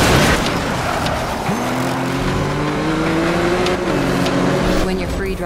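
A car driving in the Xbox One racing game Need for Speed Rivals, free roaming Redview County; a steady engine drone rises and shifts in pitch over a constant background of game sound.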